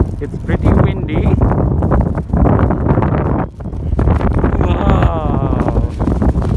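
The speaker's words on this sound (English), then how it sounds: "It's pretty windy." Strong wind buffets the microphone on the open deck of a moving ferry bound for Seattle, a loud continuous rumbling roar with gusty swells, running under people talking nearby.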